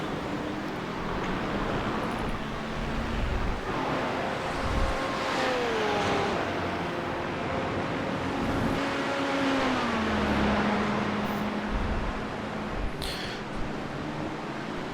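Race car engines in the iRacing video game at the Red Bull Ring rise and fall in pitch as cars accelerate and shift, a constant engine drone with a background whine and no talking.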